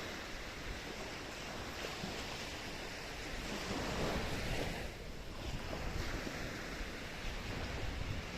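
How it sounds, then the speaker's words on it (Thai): Steady roar of Baltic Sea waves crashing and surging on the shore at Warnemünde, Germany, continuous and fairly loud, with wind buffeting the microphone and no voices. "เสียงคลื่นทะเลน้ำใสนะน้ำใสน้ำเย็นนะเสียงคลื่นซัดแรงๆนะ"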